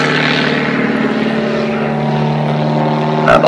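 A Pitts aerobatic biplane with a big engine and very light airframe roars loud and close in flight, a steady propeller drone heard from the cockpit throughout.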